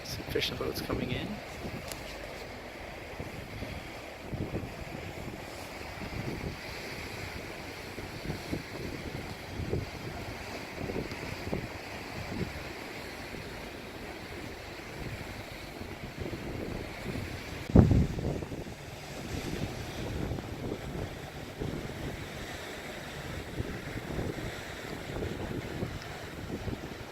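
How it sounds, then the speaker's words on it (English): Fishing boats come in at Peggy's Cove under steady wind buffeting the microphone, with waves washing against the shore and a low, distant engine rumble, plus a sharp thump near the middle and a voice speaking at times. "Some fishing boats coming in."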